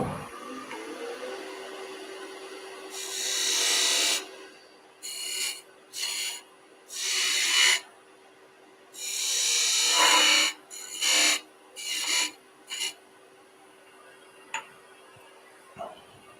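Wood lathe spindle gouge cutting small beads, a steady faint hum broken by several hissing, scraping bursts of varying length, close-up with no talk.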